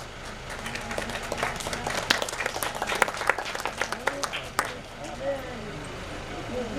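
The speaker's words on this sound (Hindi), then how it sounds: "चंद्रांश फाउंडेशन के लिए शानदार तालियां" An audience at a foundation event applauds in dense, steady clapping that fades out after a few seconds, with a voice speaking over it.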